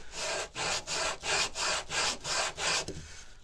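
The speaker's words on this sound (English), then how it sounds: "we'll sand this edge here so that it's not so rough" Sandpaper rubs back and forth along the edge of a wooden serving tray in eight steady, rhythmic strokes, each a close, loud, breathy scrape, with the last stroke trailing off into quiet.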